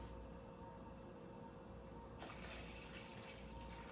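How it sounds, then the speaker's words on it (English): Water poured from a container into a small tub during a live magic act, a quiet steady trickle that swells into a brighter splashing pour partway through, heard alone without talk. "So pour some water into your tub."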